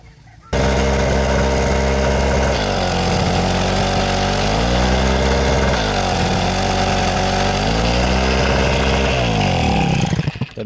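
Portable generator engine running steady and loud under load, a continuous droning hum whose pitch dips and recovers a few times, then cuts off near the end; a weak generator losing power under load.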